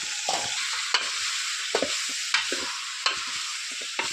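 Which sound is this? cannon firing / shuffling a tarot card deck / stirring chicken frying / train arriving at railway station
stirring chicken frying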